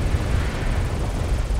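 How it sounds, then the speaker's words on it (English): Airstrike aircraft in MechWarrior Online sweeping overhead, a steady broadband roar of jet or propeller noise with heavy low rumble, loud and continuous throughout the short span with no voices. "Airstrike's out"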